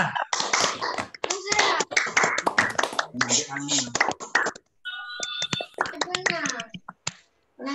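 Students at an Islamic school scout talk show perform a Pramuka group clap, with sharp, rhythmic bursts of clapping and tapping in patterned sequences, broken by short pauses and mixed with voices.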